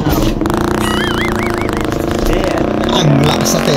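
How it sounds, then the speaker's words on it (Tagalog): A motorcycle engine runs loudly and steadily at close range, a constant rumbling drone throughout while people talk over it. "Ang lakas sa tenga yung motor!"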